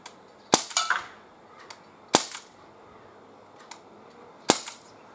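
Gamo MP-9 air pistol fired outdoors at cans: three sharp snapping shots spaced a couple of seconds apart, each with a quick clattering ring of impact, plus a couple of faint ticks between.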